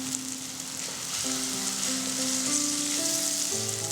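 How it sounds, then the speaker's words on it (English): Curry paste frying in a pan over medium-low heat, a steady close sizzle with soft stirring scrapes and a faint tonal hum underneath, no talking. "Add in the curry paste and fry it till it's fragrant."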